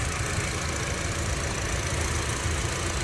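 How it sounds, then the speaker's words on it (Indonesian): Toyota Fortuner 2.4 G automatic or Honda HR-V Prestige 1.8 automatic with the engine running at idle, a steady, even drone that is close and alone, with no voices. "Suara mesin dengerin dulu, Jar. Nih, suara mesin, guys."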